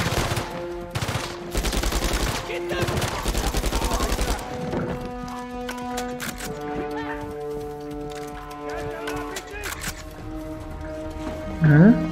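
Shotgun blasts in the Uncharted 4 video game come as a rapid series of loud, punchy shots in the first few seconds, followed by quieter game ambience with music-like tones and a late burst of noise.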